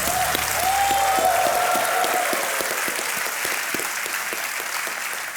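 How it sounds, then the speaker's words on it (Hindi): A studio audience on the quiz show Kaun Banega Crorepati claps for Dr. Vinay Goyal, a dense burst of applause with a short musical sting at the start that carries on steadily. "तालियों के साथ इनका अभिनंदन"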